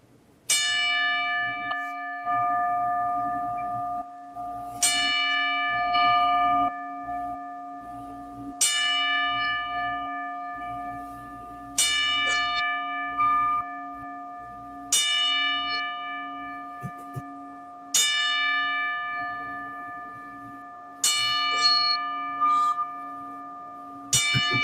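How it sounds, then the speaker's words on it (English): Seven sharp bell strikes ring out roughly every three seconds in a ten-bell salute honoring Hulk Hogan, each toll bright and ringing with a long decaying sustain, with no voices over them. "we're going to now do a 10-bell salute in the honor of legacy of the one Hulk Hogan."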